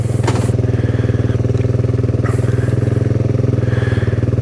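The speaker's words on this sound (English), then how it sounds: "This thing idles around 25 to 2300 RPMs." A Kawasaki Z125 Pro motorcycle idles with a steady, even, low pulsing putter, loud and close, with faint clicks and clatter over the constant engine note.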